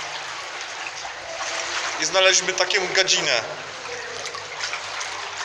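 Water rushes steadily through a power plant's cooling-water discharge canal, a constant broadband hiss running throughout, while someone speaks briefly over it in the middle.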